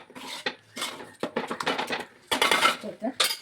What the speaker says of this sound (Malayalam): ഒന്നുകൂടി ഒന്ന് ഉടച്ച് കൊടുക്കാം.